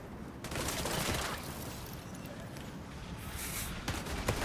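Video-game gunfire rattles in dense, rapid bursts at a loud, steady level with a few sharper shots near the end, with no talking.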